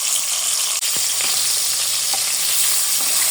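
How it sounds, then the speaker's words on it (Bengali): Pieces of rohu fish fry in hot oil with a loud, steady, close sizzle that continues the whole time, broken by a few faint clicks, with no voice. "এই যে দেখুন বন্ধুরা মাছগুলো ভেজে নিচ্ছি"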